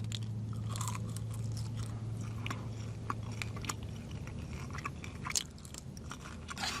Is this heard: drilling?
no